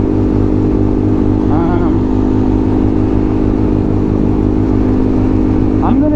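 A 250cc motorcycle engine with an AR exhaust holds a deep, steady rumbling idle with a couple of short throttle blips, loud and close throughout.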